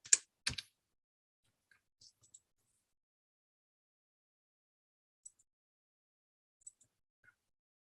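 Several quick taps on a computer keyboard come close together at the start, followed by sparse, faint isolated clicks across an otherwise silent stretch.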